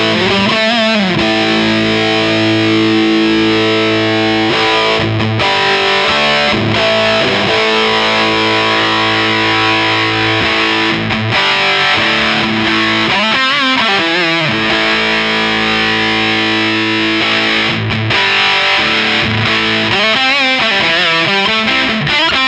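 Guitar played through a fuzz pedal with its mid-range boosted while the tone control is swept, a dense, thick distorted wall of sustained chords whose nasal character shifts and whooshes throughout, loud and continuous with no talking.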